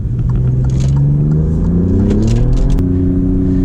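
Alfa Romeo Giulia Quadrifoglio engine pulling in second gear, a loud, close, steady rumbling drone whose pitch climbs gradually as the revs rise, then settles slightly, with no speech.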